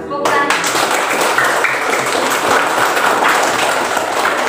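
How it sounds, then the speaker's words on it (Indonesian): Fifth-grade pupils in a classroom break into applause, a dense burst of many hands clapping that holds steady for several seconds. "Tepuk tangan."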